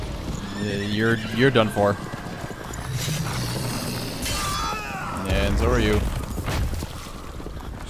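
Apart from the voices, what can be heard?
galloping horses in a video game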